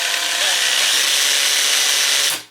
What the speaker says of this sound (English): So I'm just going to drill this bucket.